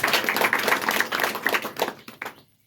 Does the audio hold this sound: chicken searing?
no